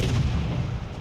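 Heavy naval gunfire from a warship in World of Warships Legends, a dense continuous low rumbling boom filling the whole moment, loud and close with no clear gaps between rounds.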